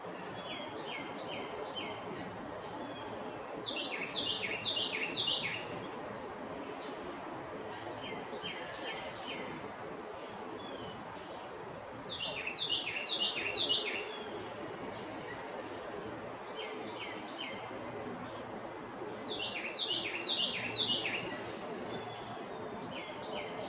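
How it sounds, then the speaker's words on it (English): Songbird calls come in three short bursts of quick, repeated chirping notes spaced several seconds apart, fairly faint over a quiet outdoor hiss. "that bird call? Sounds like they're saying Jimmy Stewart,"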